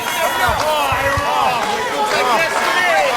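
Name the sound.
wrestling crowd cheering for Tony Atlas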